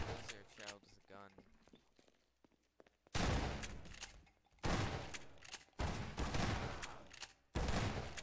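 Bursts of gunfire in a video game, several loud broadband volleys separated by short gaps, following a quieter stretch with a voice talking near the start.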